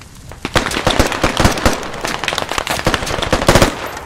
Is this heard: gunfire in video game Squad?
yes